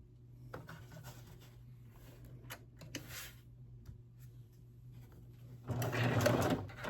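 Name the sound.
sewing machine stitching quilt fabric strips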